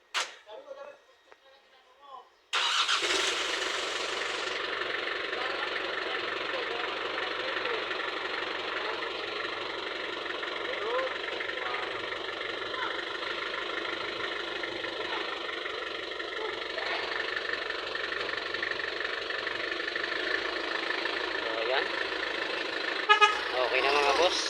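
An Isuzu ELF truck engine runs during a clutch roll test, a loud, steady broadband drone that starts abruptly after a few quiet seconds and holds throughout, with a small bump near the end.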